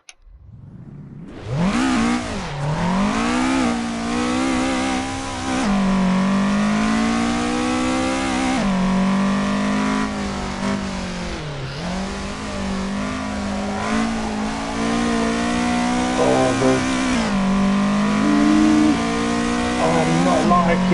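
A racing car in the Assetto Corsa video game starts up and then revs, its engine pitch rising and falling through gear changes. The sound is loud and continuous for about twenty seconds, with someone talking over it.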